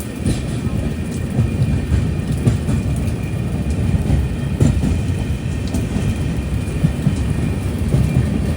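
The Mangala Lakshadweep Express, running from Hazrat Nizamuddin to Ernakulam, rumbles along the Konkan Railway in the rain, a steady loud rolling drone with faint rhythmic wheel knocks throughout.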